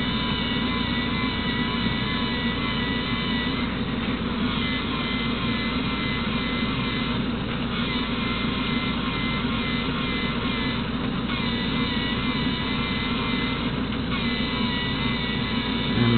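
A Lego NXT motor drives a three-speed manual transmission in third gear, giving a steady, loud, unbroken whirring drone that holds level throughout.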